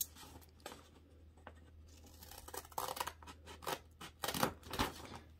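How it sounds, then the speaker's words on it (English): Scissors cutting folded paper along a score line for a pocket zine insert, a quiet run of crisp snips that grows busier and louder toward the end, close and alone. "you want to cut on the score line until you reach this score line."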